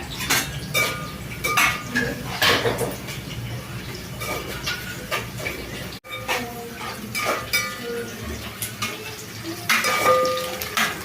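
Chicken fries in a home kitchen pan for a Sunday meal, a steady sizzling hiss broken by repeated metallic scrapes and clinks of a spatula against the pan.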